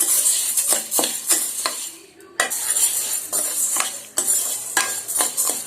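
Urad dal being dry-roasted in a pan for a kids' dry-fruit breakfast mix, with repeated scraping and clinking of a spatula against the pan and a soft sizzle underneath, steady and close.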